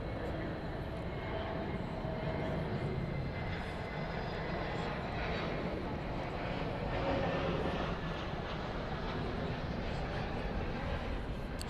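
Aircraft at Dallas/Fort Worth (DFW) Airport at night make a steady, broadband engine roar that holds evenly and fairly distant throughout, with no clear breaks.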